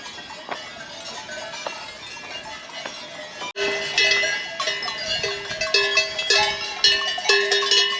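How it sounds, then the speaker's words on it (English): Many cowbells on grazing cows in the Alps of Liechtenstein clank and jingle irregularly, some near and some farther off, forming a dense, continuous outdoor chorus. "You can hear the bells ringing everywhere."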